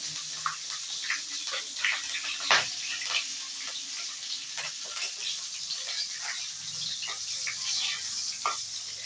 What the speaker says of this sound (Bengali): এবার সমস্ত ফোড়নটা আমি এর মধ্যে দিয়ে নিচ্ছি গ্যাসের ফ্লেম কিন্তু একদম লোতে থাকবে